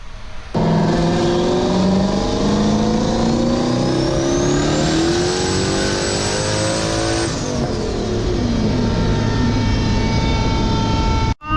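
A tuned car engine revving hard through a full pull on a chassis dyno, loud and sustained, climbing steadily in pitch with a high whine rising over it before cutting off near the end.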